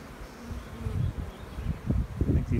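Honeybees buzz at the hive in a low, soft drone that swells and fades unevenly, with no voices.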